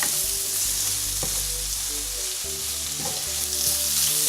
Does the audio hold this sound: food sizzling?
yes